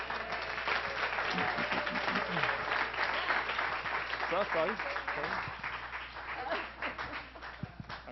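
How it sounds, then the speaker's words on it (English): A hackathon audience gives a sustained round of applause, many hands clapping in a dense, steady wash throughout, with scattered voices and a few whoops and calls mixed in. "So let's give her a round of applause."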